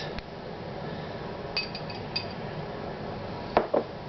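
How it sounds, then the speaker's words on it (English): Sharp clinks and scrapes of a fork and knife on a plate as jalapeños are cut, a few isolated taps spaced out over a faint background hiss, loudest near the end. "I cut mine up with a fork and knife"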